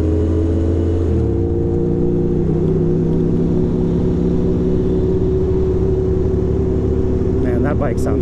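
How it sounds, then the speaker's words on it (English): A motorcycle engine revving in Manhattan traffic, a loud, continuous low rumble that climbs in pitch near the start and holds strong, close by, with some traffic noise around it. "Man, that bike sounds vicious"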